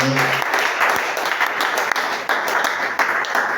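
A church congregation bursts into dense, sustained applause and clapping during a worship service, loud and close, with a few voices mixed in.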